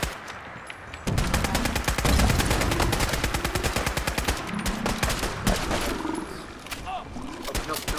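Dense, loud automatic gunfire erupts in a Fallout 4 Far Harbor fight against Gulpers, rapid shots rattling continuously after a short quieter opening.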